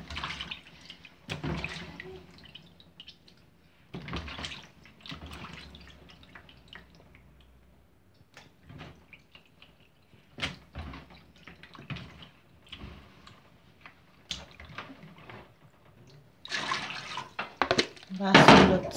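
Water from a tap running and splashing over meat being washed after fat and bones were removed, intermittent bursts of gushing and dripping with handling noises, close and moderate in level, with no talking.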